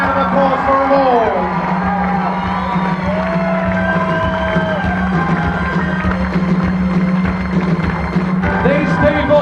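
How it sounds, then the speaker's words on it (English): A loud rock-and-roll show crowd cheers and whoops continuously, with shouted voices and whistles rising over a dense, sustained roar of noise. "A big round of applause for them all."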